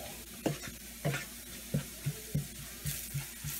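A spoon scrapes and taps rhythmically in a pan while turmeric and coriander powder are mixed in for a Nilgiri chicken dish, about eight soft knocks over a faint sizzle, close by and with no voices.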